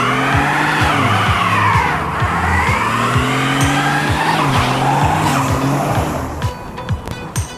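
A 2019 Genesis G70 all-wheel-drive car doing a burnout, its engine holding a loud, sustained roar under continuous high-pitched tire squeal that wavers throughout, close and with no talking.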